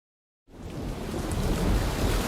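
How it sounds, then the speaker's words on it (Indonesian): Steady rain with a low rumble of thunder outside on a cold night, starting abruptly after a moment of silence and swelling into a continuous, fairly loud wash of noise with no talk. "Tuan muda di luar dingin dan hujan."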